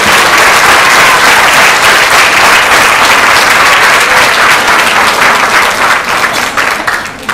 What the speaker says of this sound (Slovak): Takže slušilo by sa potleskom odmeniť našich divadelníkov.